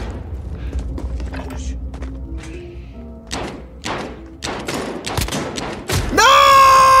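Shots from a .357 revolver in the Warzone video game, a series of separate sharp thudding reports spaced apart, with game sounds and a loud burst at the end.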